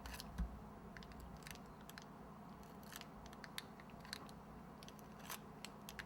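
Repeated crisp snips of scissors cutting during sugar Easter egg cake decorating, irregular and close, over a quiet room hum.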